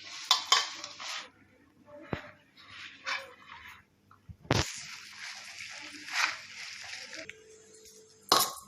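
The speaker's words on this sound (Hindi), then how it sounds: "अब हम इसे मिक्स करते हैं।" Samosa filling seasoned with fenugreek is stirred in a bowl, giving repeated close scraping and clinking of a spoon against the dish in short bursts with brief pauses between.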